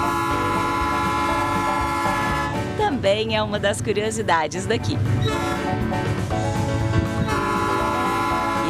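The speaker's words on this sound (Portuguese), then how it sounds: "claro, o trem," A train crossing the road-and-rail bridge linking Ribeirão Vermelho and Lavras in Minas Gerais, sounding a loud sustained horn over a steady rolling rumble while someone speaks midway through.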